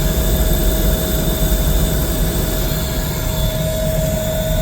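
A waste oil furnace burner runs with a loud, steady roar and a constant high whine over it, unbroken from start to finish with no talk.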